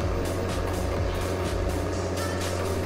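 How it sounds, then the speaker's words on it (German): Loud, steady rumble of heavy tractor engines pulling trailers in Landwirtschafts-Simulator 17, droning continuously, with faint rhythmic beeping over the top. "Wir machen Elefantenrennen mit Traktoren und Anhängern."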